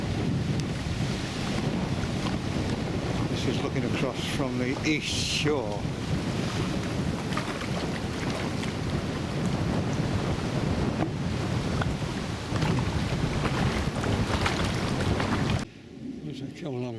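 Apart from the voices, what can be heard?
wind and choppy water on a lagoon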